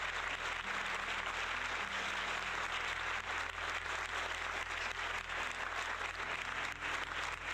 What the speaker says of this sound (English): We'll give you the long round of applause for that.